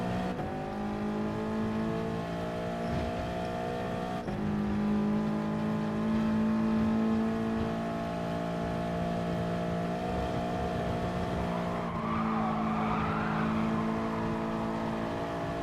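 Super GT race cars in Gran Turismo Sport, several engine tones droning and shifting pitch together as the cars drift through a turn, steady and continuous with no talk.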